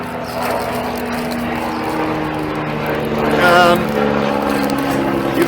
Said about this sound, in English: Oh, here come the helicopters.